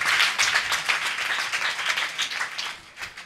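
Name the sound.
congregation clapping hands in praise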